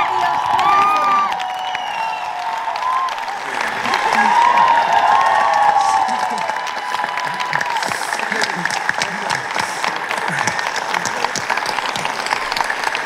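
An audience gives sustained, loud applause to welcome Nobel laureate Katalin Karikó of the University of Szeged, with crowd cheers and whoops running through the steady clapping.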